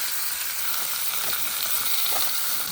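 Ribeye steak searing in butter on a Traeger Flatrock griddle: a steady, close, bright sizzle with occasional small pops of spattering grease, without pause for the whole stretch.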